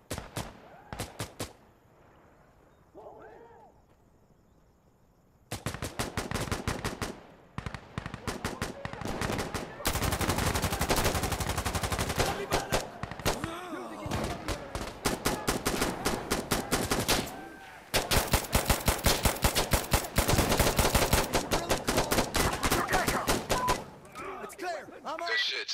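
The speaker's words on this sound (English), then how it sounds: "Where are those shots?" Rapid automatic gunfire in the tactical shooter Insurgency: Sandstorm, fought through city streets, comes in long dense bursts and scattered single shots, loud and close, separated by quieter pauses, while players talk over radio in between.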